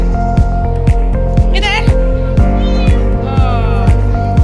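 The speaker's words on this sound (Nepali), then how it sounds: "बिरालो देख्नुहुन्छ" A cat meows a couple of times amid loud, busy background noise with a steady rhythmic thumping and people talking.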